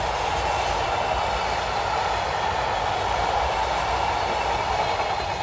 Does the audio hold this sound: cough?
no